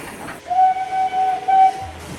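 A steam train whistle blows in a few short, clear toots over a low rumble, close and fairly loud with no one talking.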